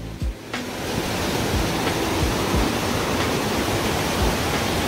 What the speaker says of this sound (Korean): 여기가 정목용소 폭포, 용소 폭포라고 되어 있습니다